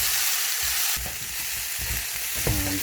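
Cauliflower leaves stir-fried in a pan: a continuous sizzle with repeated spatula scrapes and a louder clatter near the end.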